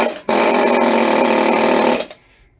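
A GS-0813PB vibration-reduced 190 mm industrial air hammer rated at 3500 blows per minute starts abruptly and runs loud and close for about two seconds as a dense rapid hammering roar, then cuts off, leaving a brief fading tail.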